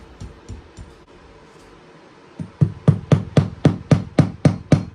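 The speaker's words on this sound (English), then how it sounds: "I just laid down a bunch of these trim nails right along the edge of this carpet where it meets the new floor" Trim nails hammered into new wood trim along a carpet edge during a barn restoration: a steady run of about nine sharp, close hammer strikes in even rhythm, following a few quieter taps and a brief lull.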